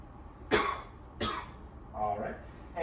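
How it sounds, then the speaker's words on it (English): A patient coughs on request during a head-to-toe physical assessment: two sharp, close coughs about a second apart, followed by a softer voiced throat sound in a quiet room. "Can you cough for me?"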